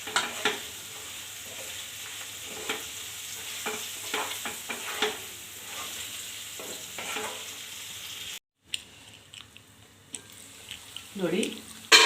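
Pepper chicken with fennel, cumin and coriander is stirred in a pan, giving a steady sizzle of frying with repeated scraping strokes, close by, briefly cut off and then resuming with louder clatter.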